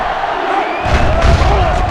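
A stadium crowd roars and cheers in the NCAA Football 07 video game, a loud, dense wall of voices that swells partway through.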